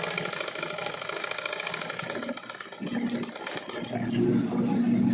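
Sewing machine stitching a pair of shorts cut down from old pants, a close, steady rapid whirring rattle that runs without pause and deepens into a heavier hum near the end.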